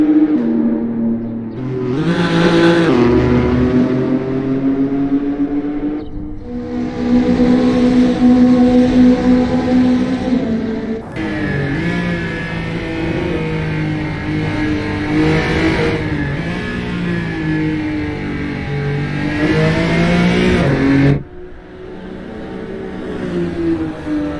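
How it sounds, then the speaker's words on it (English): Porsche race car engine in a virtual racing game, loud and continuous, revving up and down through repeated gear changes with a drop in pitch near the end. "Chris Butt in Mercedes Arena is fourth driving a Porsche"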